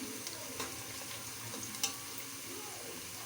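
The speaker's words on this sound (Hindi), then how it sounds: "हल्का सा फ्राई करेंगे, उसको लाइट गोल्डन करेंगे।" Onions frying lightly in a pan until golden, a soft steady sizzle with faint stirring scrapes and a couple of small clicks.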